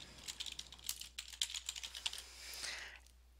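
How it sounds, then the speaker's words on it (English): Fingers type on a computer keyboard at close range, producing quick, irregular runs of soft clicking keystrokes with brief pauses, quiet and alone. "and then start typing in your stuff."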